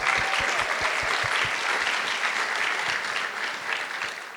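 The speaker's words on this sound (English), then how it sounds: "Give yourselves a round of applause." A live show crowd in Los Angeles applauds steadily and loudly, a dense roar of many hands with a few sharp low thumps early on, tapering slightly toward the end without speech.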